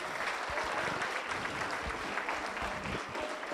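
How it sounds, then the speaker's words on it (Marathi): An audience at a Marathi cultural program of Geet Ramayan songs applauds the performers, producing a continuous, dense wash of many hands clapping at an even, moderate loudness, with a few sharper individual claps standing out and no speech. "एकदा सर्व कलाकारांकरता जोरदार टाळ्या"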